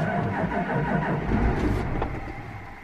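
A farm truck engine cranks and catches after a fuel filter change, a rough low rumble that holds steady up close and then eases off toward the end.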